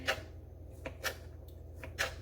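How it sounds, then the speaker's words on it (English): Knife dicing vegan sausages in casings on a cutting board, a few quick, fairly faint chops spaced about a second apart. "I turned my camera around to see if you'll be able to see me chopping these sausages. I'm dicing them."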